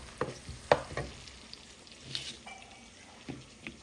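Onions and green chilies frying in a pan for a fenugreek leaf, eggplant and potato dish, with quiet intermittent sizzling and a few sharp stirring clinks and scrapes over a low background.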